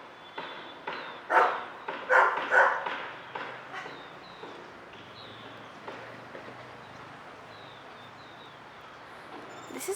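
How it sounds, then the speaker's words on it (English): A neighbor's dog barks in a distant outdoor garden setting, a run of several rhythmic barks early on that fade into sparse, faint ones amid birdsong and soft background noise. "including our neighbor's dog barking."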